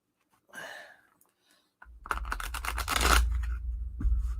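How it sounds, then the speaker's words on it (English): A deck of cards is shuffled flat on a table during a card reading, a brief rustle first, then a dense, loud riffle of cards with thumping taps, close and with no talking. "I want to get a nice, good shuffle here."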